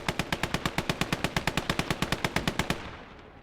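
A Maxim machine gun fires a sustained burst in the Gates of Hell WW2 strategy game, around twenty loud, evenly spaced rapid shots that stop abruptly and leave a short fading echo.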